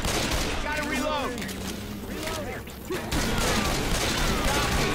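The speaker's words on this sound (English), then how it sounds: "Gotta reload." Weapon reloading in Left 4 Dead 2 comes as metallic clicks and ratcheting mechanism sounds amid dense gunfire and game noise, with a voice talking over parts of it.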